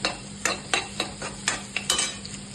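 Chopped vegetables frying with egg in a pan or wok for street-style egg fried rice, a soft sizzle broken by a run of sharp rhythmic stirring scrapes and taps, about eight in under three seconds.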